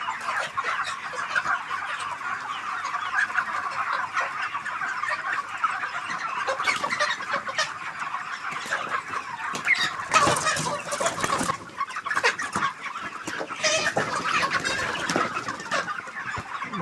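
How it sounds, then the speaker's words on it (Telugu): Chickens on a poultry farm cluck continuously as a dense, steady flock chorus, close and fairly loud throughout, with no talking. "మా కోళ్ళు చాలా ఆరోగ్యంగా ఉన్నాయి."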